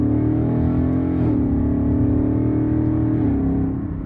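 A Ford Mustang engine in sports mode drones loudly and steadily under acceleration; its pitch dips briefly as the driver shifts manually with paddle shifters into second gear, then the drone holds and eases slightly at the end.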